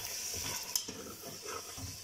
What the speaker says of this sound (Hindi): ऑयल डाल के जो मैं अच्छे से भून रही हूँ